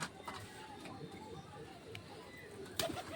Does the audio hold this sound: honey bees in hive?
no